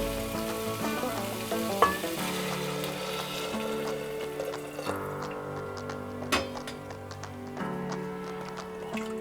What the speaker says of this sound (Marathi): आता ह्याच्यात आपण गरम पाणी घालायचं आहे.